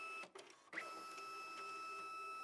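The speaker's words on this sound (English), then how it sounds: "insert the small end of the cleaning card into the slot on the front of the" A Magicard Enduro Plus ID card printer draws a cleaning card into its front slot, giving a short mechanical whir and click with a brief motor run, followed by a steady faint hum.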